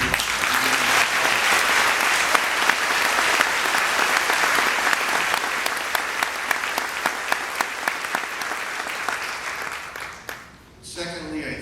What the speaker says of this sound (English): I think we all need to applaud that